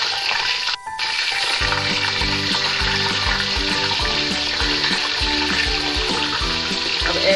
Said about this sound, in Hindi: हमारा चिकन अच्छे से फ्राई हो रहा है